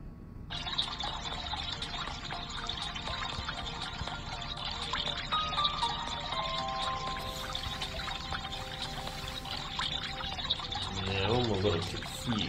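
Water flows and trickles in the Flow Water 3D fountain puzzle game with a light, steady liquid sound, while someone talks over it almost the whole time.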